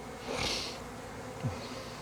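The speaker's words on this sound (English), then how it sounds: "they're house bees getting ready to be field bees" Honey bees buzz at the hive, a steady low drone with a louder swell early on and a brief closer pass near the end.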